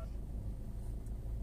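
A Maruti Suzuki Ertiga with a low-pickup fault idles just after being started, giving a steady low rumble that holds evenly throughout at moderate volume, with no voices over it.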